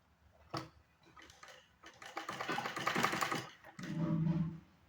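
A sewing machine stitching a belt runs in short bursts, its needle hammering in a fast rhythmic chatter with a low motor hum near the end, fairly quiet and close.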